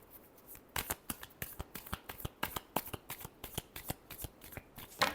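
A deck of tarot cards is shuffled by hand in a quick run of crisp, riffling flicks and taps, close and fairly quiet, with no voice over it.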